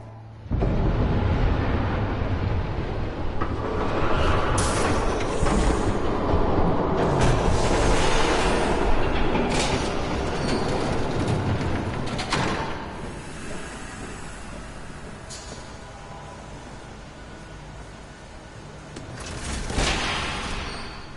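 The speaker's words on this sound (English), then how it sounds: "There's a train coming." A train passes in the Batman: The Telltale Series video game as a loud, rumbling roar with rushing hiss and clattering bursts that swell early, hold, then fade, before a brief late swell.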